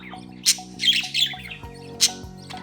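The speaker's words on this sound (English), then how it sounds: "Males usually chirp a lot." A male budgie gives several sharp squawks and chirps in short bursts, close and fairly loud, over a faint low hum.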